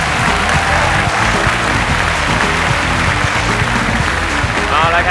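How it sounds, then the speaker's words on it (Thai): An audience claps steadily through a televised Thai innovation awards final in a studio, a dense, even wash of hands with some mixed voices underneath. "ปรบมือดังๆเลยครับ"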